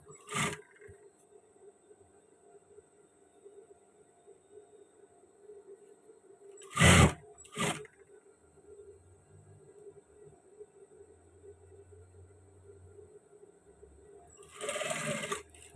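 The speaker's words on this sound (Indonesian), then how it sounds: "sekarang kita tindas dengan jahitan untuk klep yang kecil terlebih dahulu" A sewing machine topstitches a small flap on a men's shirt, running as a steady, faint hum with a few louder handling clicks and bumps.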